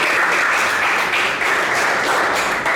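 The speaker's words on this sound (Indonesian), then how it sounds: "Beri tepuk untuk kita semua." Steady, full applause from a group closing an electrical-skills teaching session, continuous and fairly loud across its short length with no talk over it.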